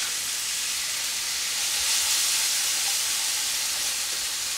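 Soft shell crabs sautéing in a pan with lemon juice, giving a steady, close, even sizzle and hiss that holds without pause and has no talk over it.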